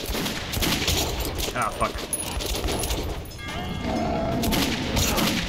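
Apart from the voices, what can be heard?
gunfire from video game Metro 2033 Redux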